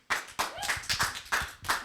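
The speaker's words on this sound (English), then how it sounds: "Can we have a round of applause from everyone around the world that's tuning in?" A few hands clap sharply at a graduation showcase, about half a dozen distinct, close claps in an uneven rhythm over under two seconds, thin rather than a full crowd.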